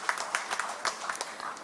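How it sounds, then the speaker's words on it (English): An audience applauds for a minister at a principals conference inaugural ceremony, a brief, fairly faint patter of many hands clapping at a moderate distance. "he deserves a louder round of applause"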